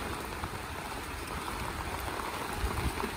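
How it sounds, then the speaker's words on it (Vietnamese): Heavy rain falling steadily on a house construction site where builders keep working, a dense, continuous hiss that stays loud and even throughout with no voices. "Đấy, mưa khá là to nha các bạn nha."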